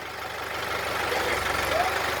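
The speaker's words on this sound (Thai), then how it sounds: "วันนี้ขับรถไถแต่เช้าเลยค่ะ" A tractor engine runs steadily, driven early in the morning, giving a continuous low rumbling drone at moderate distance with no speech over it.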